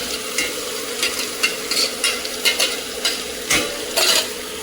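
Potatoes and fenugreek leaves roast with masala in a pan for a dry aloo methi sabzi, with a steady crackling sizzle broken by regular spoon scrapes and stirring pushes close up.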